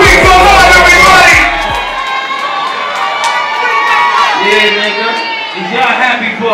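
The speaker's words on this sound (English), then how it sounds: "Make some noise for Rico Love, everybody!" A club crowd in Milwaukee cheers, shouts and whoops loudly, an intense burst that settles into a sustained roar, with voices calling out over it.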